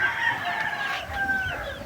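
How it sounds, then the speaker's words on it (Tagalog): A chicken, apparently a rooster, crows and clucks nearby in a short, steady burst with no talk over it. "itong manok na ito"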